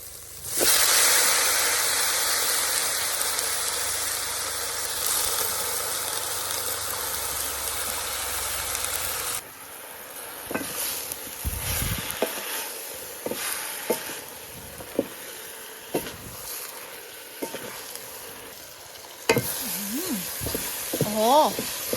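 Roselle leaves hit a hot pan for stir-frying, setting off a loud, hissing sizzle for about nine seconds. The sizzle then drops away to quieter stirring with scrapes and knocks of the utensil, and a voice comes in briefly near the end.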